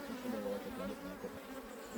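Honey bees buzz at a hive during feeding and maintenance, a close, steady droning hum with slight wavering pitch and no voices.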